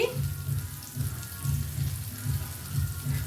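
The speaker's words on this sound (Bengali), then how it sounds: "আমি এটা বড়া সাইজে ভাজছি" Steady crackling sizzle of large fritters frying in hot mustard oil, with a low bubbling rumble pulsing gently throughout.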